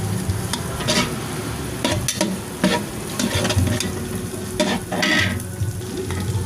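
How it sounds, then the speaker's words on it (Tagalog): Onions sautéing in a pan for Filipino lugaw, giving a steady close sizzle with repeated scraping and stirring clinks throughout. "maluto na ang sibuyas"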